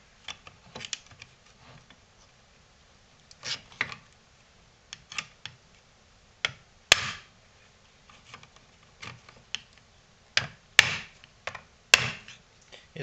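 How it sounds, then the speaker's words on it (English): Sharp hammer taps strike the seam of a plastic power supply case from a Camvu DVR1, coming as irregular clusters of close, dry knocks with short quiet gaps and no talking. "a bit of a impact from a hammer, and that cracks it loose"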